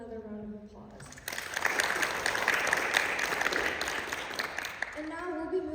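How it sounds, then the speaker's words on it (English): Audience applause at a National Association of Academies of Science American Junior Academy STEM event: a sustained, fairly loud burst of clapping from a crowd, with a speaker talking just before it starts and again as it tapers off. "Please give them another round of applause"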